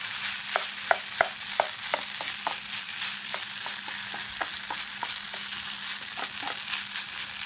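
Seasoned hashbrowns are turned in a pan on a folding firebox, with a run of quick scraping taps and clicks from the utensil over a low, constant frying sizzle.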